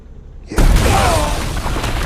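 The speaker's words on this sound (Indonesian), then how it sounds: "tiba-tiba ledakan terjadi" A sudden loud blast breaks a quiet moment, followed by a sustained roaring, crackling rumble that lingers for over a second.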